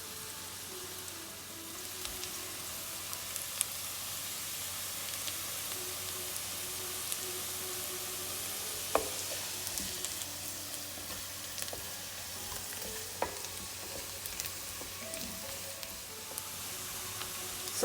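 Chopped onions frying in a pan with half a spoon of turmeric, a steady soft sizzle with occasional crackles and small spatters, close and continuous throughout.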